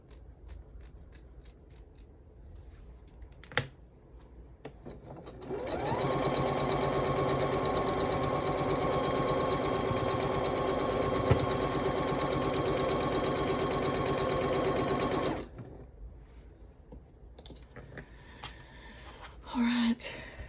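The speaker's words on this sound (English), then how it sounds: "I sew these binding strips together" A sewing machine stitches quilt binding strips together for a calico snails table runner, running steadily for about ten seconds at close range, with a few handling clicks before and after.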